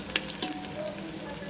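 Rice and spices sizzling hard in hot ghee, a loud, dense, continuous frying crackle heard close up with a few sharper pops and no talk.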